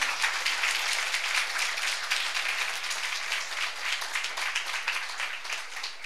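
A congregation claps in praise at a Christmas church gathering, a dense, continuous burst of many hands applauding close by without pause.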